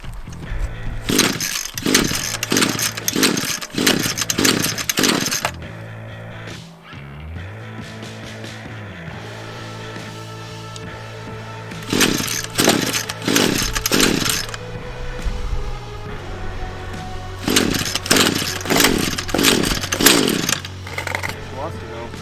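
A two-stroke ECHO SRM 210 string trimmer engine, set on full choke, catches and revs in three loud, close bursts of ragged buzzing, settling to a lower idle drone between them.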